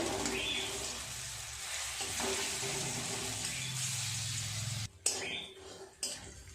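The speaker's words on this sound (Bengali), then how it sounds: "উল্টিয়ে দেবো এগুলো ভাজা হয়ে গেছে" Lentil fritters (bora) frying in hot oil, a steady close sizzle filling most of the stretch, broken by short drops and a couple of clattering spoon touches, with someone talking over it.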